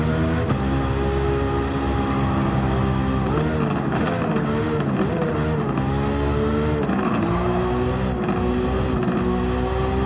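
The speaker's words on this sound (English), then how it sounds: "you have to have good brakes because this car is going very fast." A Nissan Skyline R34 GT-R V-Spec II Nür from 2002 races a time trial in Gran Turismo 7, its engine roaring loud and steady throughout, with repeated revs rising and falling through gear changes and no talking.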